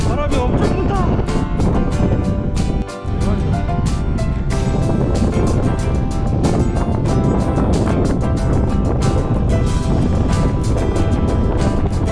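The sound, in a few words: strong wind blowing on a mountain ridge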